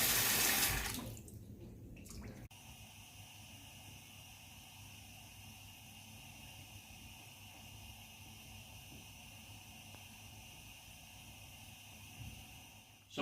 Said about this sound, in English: Just run them under the cold tap.